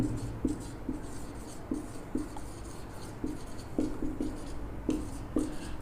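Chalk or marker writing on a board during a lesson on plant reproduction, heard as a steady series of short scratchy strokes in irregular bursts, fairly close and moderately quiet with no talking.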